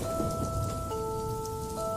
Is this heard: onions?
no